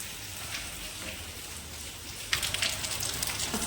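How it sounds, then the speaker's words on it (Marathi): Steady rain falls outside, an even wash of dense pattering on surfaces that swells brighter and heavier near the end, with no talking. "सकाळपासूनच पावसाला सुरुवात झाली"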